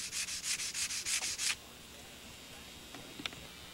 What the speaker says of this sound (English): work off a sanding block.